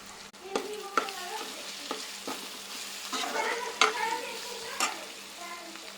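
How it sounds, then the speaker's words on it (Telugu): Ginger garlic paste and chili powder fry in a pan, a steady soft sizzle broken by several sharp spoon scrapes and taps as the mixture is stirred, close and moderately loud with no talking. "అల్లం వెల్లుల్లి పేస్ట్ వేసేద్దాం."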